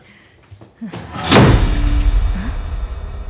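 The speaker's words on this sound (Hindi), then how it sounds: "दरवाजा अपने आप ही बंद हो गया।" A door in a house slams shut on its own, one heavy thud that rings out and fades, preceded by faint footsteps and shuffling indoors.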